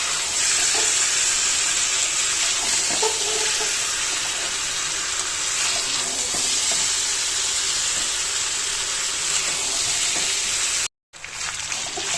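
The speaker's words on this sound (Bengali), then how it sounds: "চিকেনটা আমার কষানো হয়েছে।" Spiced chicken sautés in a pan, a dense, steady sizzle and hiss with occasional faint stirring scrapes, loud and close, cutting off abruptly near the end before resuming faintly.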